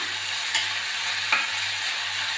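Onions sautéing in a pan for an egg curry, giving a steady sizzle and frying hiss with two brief scrapes of a stirring spoon, close up with no talking.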